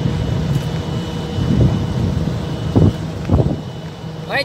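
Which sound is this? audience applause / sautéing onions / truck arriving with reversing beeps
truck arriving with reversing beeps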